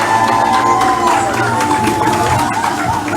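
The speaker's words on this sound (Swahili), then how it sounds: "Makofi tafadhali," A crowd at a launch event claps and cheers after a countdown, a thick continuous burst of hands with voices and a sustained tone mixed through it.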